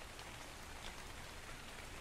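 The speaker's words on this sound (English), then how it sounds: "Oh, now of course it would rain." Steady rain falls in the video game Ark Survival Evolved, a continuous dense hiss of drops on surfaces that holds even and unbroken throughout, with no voices.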